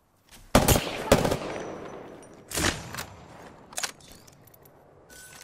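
Gunfire in a battle royale video game: a couple of sharp close bursts early, then two fainter separated shots, with quiet gaps between.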